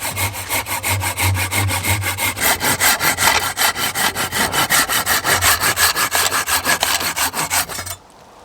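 Steady back-and-forth strokes of a hand saw cutting through seasoned beech hardwood, loud and close, with an even rasping rhythm of about five strokes per second that stops abruptly near the end.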